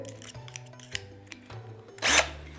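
A cordless drill set to its lowest speed whirs in short, low-pitched bursts, fitted with a spoon for stirring hot milk and cocoa, ending in a louder scraping clatter near the close.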